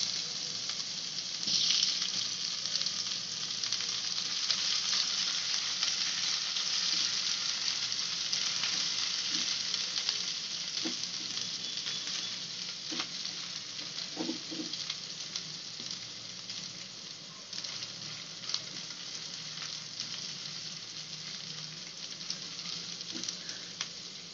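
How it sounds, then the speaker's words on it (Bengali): Ginger and garlic sautéing in oil in a kadai, a steady close sizzle that fills the whole stretch with a few faint stirring clinks and no talking. "ওতে একটু তেল দিয়ে আমরা জিঞ্জার আর গার্লিকটা সতে করব।"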